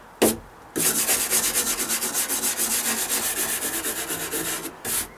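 A putty knife scraping mildew off a wooden deck, a fast run of rhythmic rasping strokes, close and loud, after one short opening scrape and followed by a final brief stroke.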